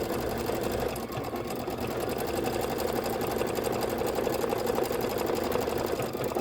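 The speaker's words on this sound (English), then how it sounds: "When you're doing little stitching like this, you can also switch over to a 60 weight thread" Embroidery sewing machine stitching with fine 60-weight thread, a steady, continuous rapid mechanical whir that runs loud and unbroken throughout.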